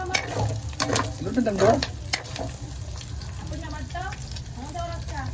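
Garlic frying in a pan, with a steady sizzle and some stirring scrapes beneath a speaking voice.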